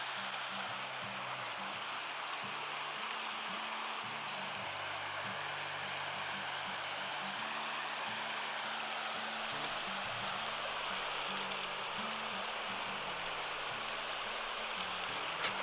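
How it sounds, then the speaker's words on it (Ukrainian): Water rushes and splashes steadily, a constant hiss of a small cascading mountain waterfall feeding a stream near Lake Nesamovyte, with no voices. "Багато каскадів, водоспадок."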